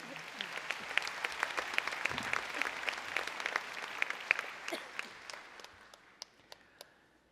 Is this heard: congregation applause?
yes